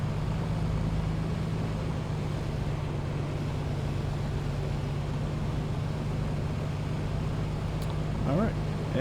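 The piston engine of an A2A Comanche in a flight simulator idles at about 1,000 RPM, giving a steady low drone throughout with someone talking over it.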